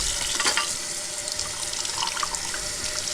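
Tap water runs steadily over a Bosch dishwasher filter as it is rinsed in a sink, a close, continuous rushing splash with small shifts as the filter moves under the stream.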